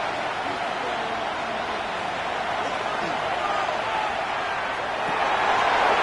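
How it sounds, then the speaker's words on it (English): Broadband stadium crowd roar from an EA Sports football video game during a Super Bowl matchup, a steady wash of noise that swells slightly near the end, heard alone without talk. "This crowd into it now as we get to 3rd down."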